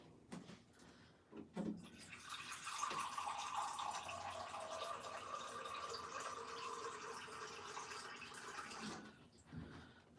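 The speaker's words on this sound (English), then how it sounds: "So I've got another cup of water that I'm adding." Cup of water poured into a cooking pot holding cannellini beans, a short steady splashing gush lasting several seconds, close and moderately quiet, with a few clinks before and after.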